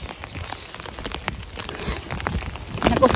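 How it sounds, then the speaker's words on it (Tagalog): Rain falling steadily outdoors in the UK, a dense patter of drops on surfaces with scattered louder splats, building slightly toward the end, no speech. "kasi umuulan"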